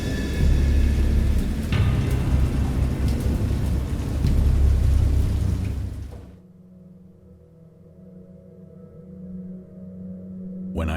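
Heavy rain pours with rolling thunder in the video game Dagon for several seconds, then cuts off abruptly to a low steady rumble and quieter drizzle.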